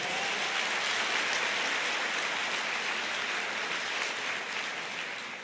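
A church congregation applauding, a dense, continuous wash of many hands clapping at once that holds steady and eases off slightly toward the end.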